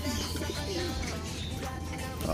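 Pigeons coo softly inside a loft amid a constant low hum, with a few chirps and rustles scattered throughout.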